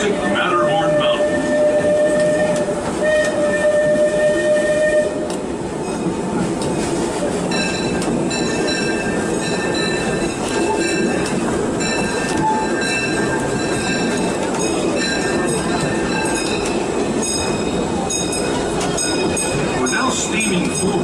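Disneyland Railroad train riding the track past Toontown Depot and Fantasyland: a continuous loud rumble with wheel squeals and clicking joints, carrying on under a recorded narration voice.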